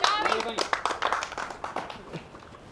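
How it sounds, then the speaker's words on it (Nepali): A group of people on a dating game show claps hands in a brief burst of quick, uneven claps, fading over a couple of seconds, with voices talking over it. "यसो ताली बजाइदिउँ"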